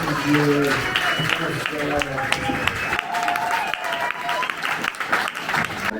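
Stand-up comedy crowd applauding and cheering the performers, a dense roar of clapping with shouts and whoops over it, fairly close and loud, while a voice talks over the noise.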